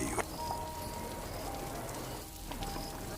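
Heavy stormy rain pours steadily over a village at night, a dense, continuous hiss of drops on surfaces with no pauses, close and fairly loud throughout.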